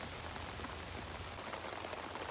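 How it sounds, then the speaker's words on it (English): Steady rain falls outdoors near a house downspout, a dense, even hiss of drops on surfaces with no pauses or voices. "I'm gonna go get in and out of this rain."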